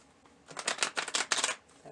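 A deck of tarot cards shuffled by hand, with a rapid run of crisp riffling card flutters in two close bursts, alone and fairly near.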